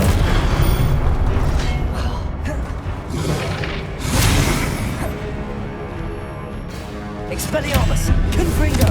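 Confringo explosive spell blasts going off in Hogwarts Legacy, a string of loud, booming bursts with roaring rumble between them, mixed with game sounds and a voice talking over the action.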